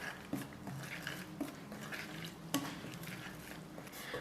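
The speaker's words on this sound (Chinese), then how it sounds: "我们用筷子不停地搅拌" Chopsticks stirring a sticky flour, yeast and sugar dough batter in a bowl, a steady soft mixing scrape with faint knocks against the bowl roughly every second, close and quiet, with no talk.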